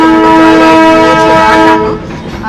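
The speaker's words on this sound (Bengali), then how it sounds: "তো ট্রেন তো চালু হয়ে গেল হ্যাঁ।" The Darjeeling toy train starting out on the Siliguri to Rongtong line gives a loud, sustained horn blast lasting nearly two seconds, very close, before it cuts off, leaving rumbling railway noise.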